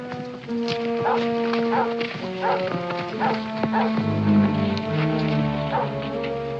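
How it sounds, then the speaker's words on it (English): A dog bays and barks in repeated bursts at a moderate distance, with steady droning tones underneath. "Now, that dog's on a trail. I can tell by his voice."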